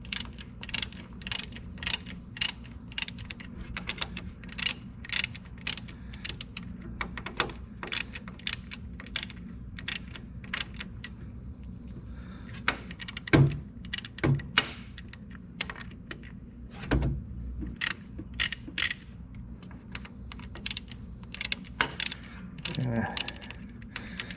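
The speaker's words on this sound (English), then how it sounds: "Loosen these up. I'm using a 12-point socket." A ratchet fitted with a 12-point socket loosens bolts on a David Brown 880 tractor, making rapid repeated metallic clicking bursts with occasional heavier clanks of tools nearby, fairly close and continuous.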